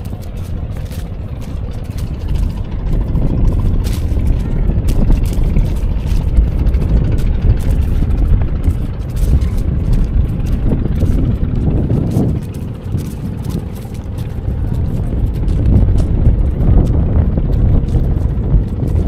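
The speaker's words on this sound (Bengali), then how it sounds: "আমরা ট্রলারের পাশে চলে আসছি অবশেষে।" A motor trawler boat engine idles with a steady low rumble, mixed with gusty wind buffeting the microphone; no one speaks.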